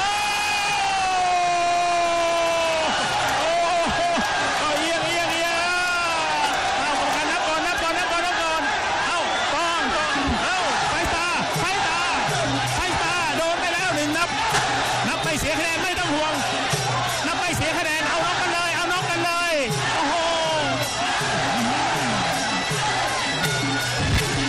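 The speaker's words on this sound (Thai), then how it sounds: "เสียงเชียร์มากระหึ่มแล้ว" A Muay Boran fight crowd in Bangkok cheers loudly and continuously, shouts and whoops swelling in a dense roar, with a commentator talking over it.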